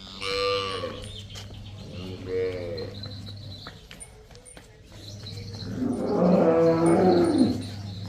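Dairy cows at a farm moo in three long, loud, close calls, with faint birds chirping in the background.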